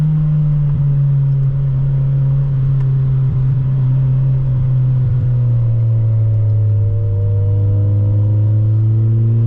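A loud Mazda Miata NB2 engine drones steadily, its pitch rising and shifting as it accelerates, close and continuous throughout.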